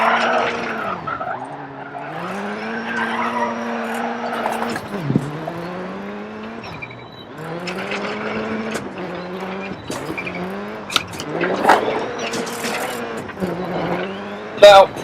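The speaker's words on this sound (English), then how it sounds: "a bit of power slide in, brake down, turn in, clutch down, handbrake, back on the power" Subaru Impreza WRC 2001 rally car in DiRT 4 power sliding through corners with the handbrake: a loud revving engine rising and falling with gear changes, tires scrabbling and skidding on loose ground, close and continuous.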